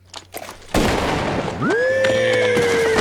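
A horse neighs loudly and close, a long rising-then-falling whinny that follows a sudden loud burst, with faint hoof sounds before it.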